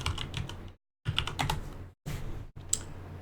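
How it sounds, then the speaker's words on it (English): Someone types a file name on a computer keyboard: three quick bursts of clicking keystrokes separated by short silent pauses, close and clear with no talking. "I type in the file name"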